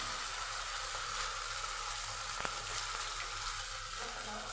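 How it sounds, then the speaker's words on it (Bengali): Chicken marinated with garam masala and gram flour shallow-fries in a little oil, making an even, moderately quiet sizzle with a single faint tap partway through and no talking. "এবার আমি এটা ভাজবো, ফ্রাই হবে এটা"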